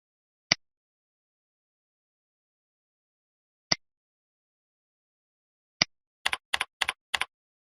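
Keys on a computer keyboard are typed quietly: three lone keystrokes spaced well apart, then a quick cluster of taps at the end, with no voices.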